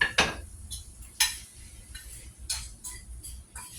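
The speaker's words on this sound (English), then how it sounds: "I'm gonna stir that in now." A spoon clinks and scrapes against a bowl or pot while coconut oil is stirred into food, in a few sharp separate taps and scrapes with quiet gaps between them.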